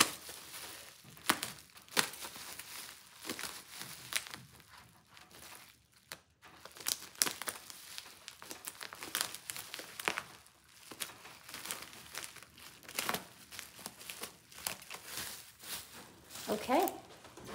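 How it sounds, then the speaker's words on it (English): Plastic wrapping on a boxed baby doll being cut open, close crinkling, crumpling and tearing in uneven bursts, with a voice speaking intermittently over it. "I'm just gonna cut the whole thing open like a, it's like a cocoon,"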